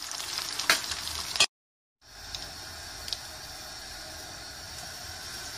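Liver pieces sizzle in hot oil with a steady frying hiss, crackling bursts near the start, a brief total drop-out, then continuous even sizzling.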